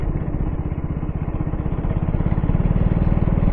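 A KTM Duke 200 motorcycle engine chugs at low revs in sixth gear with a steady, even thumping pulse, close and fairly loud, with no talking.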